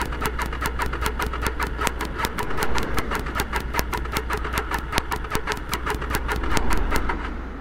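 A Yamaha Drag Star 650 motorcycle is cranked on its starter, giving a fast, even run of sharp mechanical pulses that does not catch, close and fairly loud over a low steady hum.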